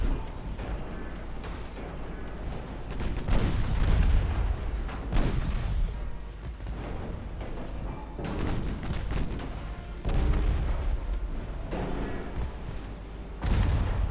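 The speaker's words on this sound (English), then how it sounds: "they should be able to fire straight forwards at the enemy cruiser" Heavy naval guns firing at an enemy cruiser in Ultimate Admiral Dreadnoughts, several deep booming salvos spaced a few seconds apart over a steady low rumble.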